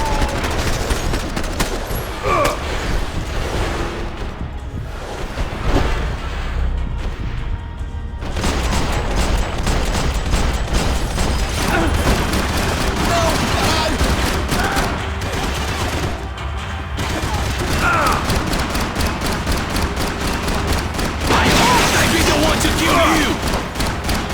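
Sustained gunfire from Max Payne 3 crackles in dense rapid bursts, with automatic fire and sharp booming shots continuing nearly throughout at loud, close range.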